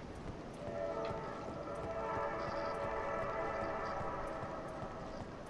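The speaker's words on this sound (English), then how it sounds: "Train in the background." A train rumbles steadily in the background in the video game Dark Souls 3, a continuous broad mechanical clatter with faint rhythmic clicks, fairly distant and unbroken for several seconds.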